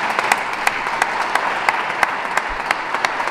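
Audience applause fills a Parisian memorial thanksgiving service, a steady dense wash of many hands clapping with sharper individual claps standing out throughout, loud and close, with no talking.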